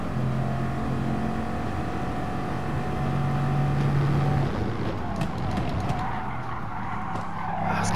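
Bugatti understeering in the racing game GT Sport, a sustained engine drone with steady tonal notes and a broad tire-scrub skidding hiss, loud and continuous for several seconds with no speech.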